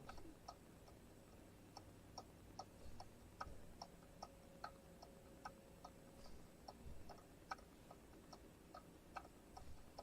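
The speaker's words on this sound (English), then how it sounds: "you can hear the ticking of that dang frog" A toy frog clock ticks steadily at a quick, even pace, faint under a low background hum with no talking.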